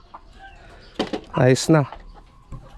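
A backyard laying hen, once lame, lets out a short burst of clucking calls close by, followed by a brief spoken phrase, in an otherwise quiet setting.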